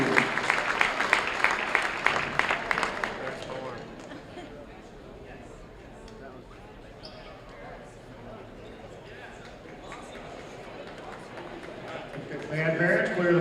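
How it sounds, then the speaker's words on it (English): Loud applause from a crowd in a school gym honours the band seniors at a high school basketball game. It fades after a few seconds into crowd murmur, with a voice over a loudspeaker, then the clapping swells again briefly. "Let's have a big round of applause for the band seniors"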